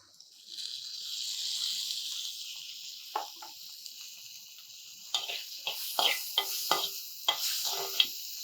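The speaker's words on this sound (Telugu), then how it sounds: "దీంట్లోనే ఇప్పుడు కొంచెం టమాటో ముక్కలు వేసుకోండి." Tomato pieces sizzle and fry in a pan, with a steady hiss throughout and a series of sharp scraping stir strokes near the end, close and fairly quiet, no talking.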